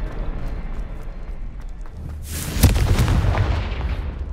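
Confringo blasting spell in Hogwarts Legacy bursts into a loud, booming explosion midway, a sharp crack followed by a rumbling, crackling tail over low game ambience.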